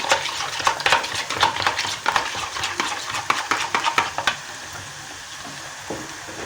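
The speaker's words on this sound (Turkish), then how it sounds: "Ve bunu çırpacağım." Rapid, rhythmic clicking of a whisk or spoon beating yogurt with salt in a bowl for several seconds, then stopping.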